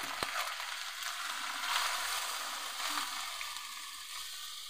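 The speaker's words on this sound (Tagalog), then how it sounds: "Ilalagay natin yung pangalawang piga na gata." Second-press coconut milk is poured into taro leaves cooking in a pan, and the pan gives off a steady, close, bright sizzling and bubbling, with one small clunk near the start and no talking.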